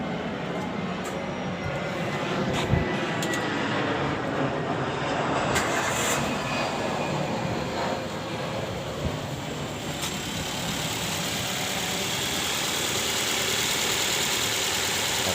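A car engine idles steadily after fan belt and tensioner replacement, with a constant close mechanical hum and a few faint clicks, without speech.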